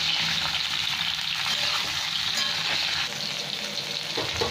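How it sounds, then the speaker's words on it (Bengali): Potato pieces and cauliflower fry in hot oil in a home kitchen, giving a continuous, close-up bubbling sizzle with occasional stirring, steady and loud without any talk. "সাথে সব কটা ভেজে নিচ্ছি।"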